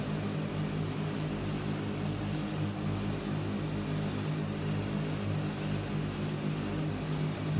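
Steady droning engine of a tail-wheel airplane coming in to land in the X-Plane 12 flight simulator, a constant loud propeller hum with no break throughout.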